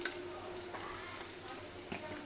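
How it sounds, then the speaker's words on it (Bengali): Dal frying in hot oil with panch phoron and cumin in a home kitchen gives a faint, steady sizzle. Light stirring clatters run through it and it stays quiet throughout. "এখন দিয়ে দিচ্ছি ডালটা তেলে, পাঁচফোড়ন আর জিরা দিয়ে দিচ্ছি।"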